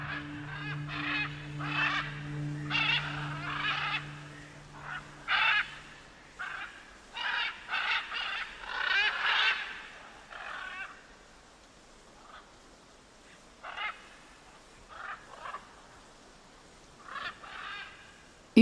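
Scarlet macaws call in a Honduras valley, a series of harsh, raucous squawks in irregular bursts, some close together and others spaced apart, moderately near against a quiet background.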